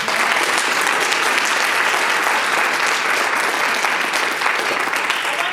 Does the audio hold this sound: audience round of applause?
yes